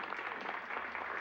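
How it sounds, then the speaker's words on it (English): A crowd in the video game Immortality claps in a dense, steady wash of applause that holds at an even level throughout, with no voices standing out. "Everyone, a big round of applause to our star"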